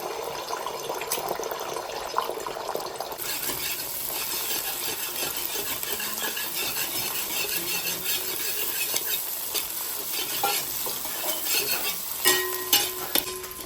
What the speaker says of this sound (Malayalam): അപ്പോൾ നമ്മുടെ എണ്ണയൊക്കെ ചൂടായിട്ടുണ്ട് അതിലോട്ട് നമ്മൾ എഗ്ഗ് വെച്ച് കൊടുക്കണം